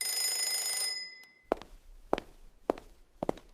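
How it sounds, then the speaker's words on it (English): A kitchen timer rings shrilly for about a second while a cake bakes, then stops. A few sharp knocks or footsteps follow in a quiet kitchen. "Oh, the timer is ringing."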